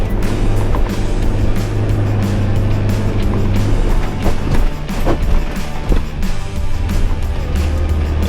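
A 4WD on lowered tyres climbs a sandy beach hill, its engine droning loud and steady with rumbling tyre and body noise throughout, close and unbroken.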